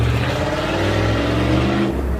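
A loud car with a big engine drives past close by, its deep steady roar and harmonic drone holding for about two seconds before dropping away as it leaves.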